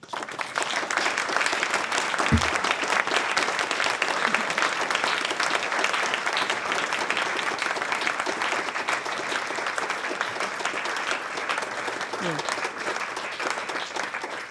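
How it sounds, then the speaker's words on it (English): Sustained, even applause from an audience at a book presentation, many hands clapping densely and steadily for the whole stretch without a break. "they really deserve a big applause"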